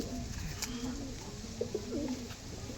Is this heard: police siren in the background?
no